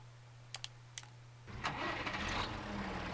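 A tractor engine in Farming Simulator 19 is started: a couple of soft clicks, then the engine cranks and catches, settling into a steady, fairly loud mid-pitched idle.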